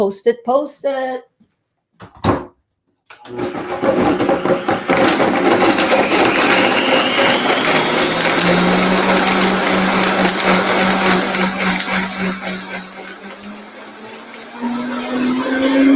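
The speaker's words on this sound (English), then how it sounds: "I love my Vitamix." After a few brief knocks and clicks, a Vitamix blender starts up and runs loudly and steadily, its whirring motor pitch slowly rising as it processes a salad dressing.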